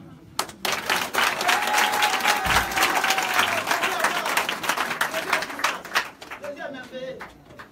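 A crowd applauds steadily for several seconds, dense clapping filling the space, fading out toward the end.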